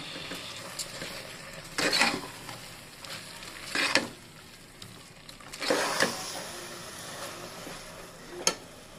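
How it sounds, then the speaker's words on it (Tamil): Chicken stirred in a pan with chilli powder, turmeric, masala and salt for hotel-style chicken salna: a steady frying sizzle broken by four scraping strokes of a spoon, roughly every two seconds, plus one sharp clink near the end. "போட்டு கலந்து வச்சுக்கோங்க."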